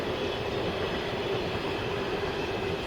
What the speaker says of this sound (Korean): 기차가 가고 있어요.